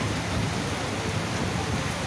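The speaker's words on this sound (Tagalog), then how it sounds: "Lakas ng ulan." Steady, dense rain hissing and pattering continuously, loud and close, with no voices over it.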